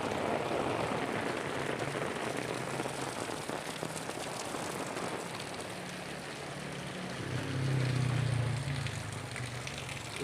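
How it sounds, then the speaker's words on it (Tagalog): Heavy rain falls steadily on surfaces outdoors, a dense, continuous hiss that holds unbroken throughout and swells slightly near the end. "maglakas ng ulan."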